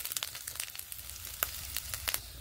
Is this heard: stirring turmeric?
yes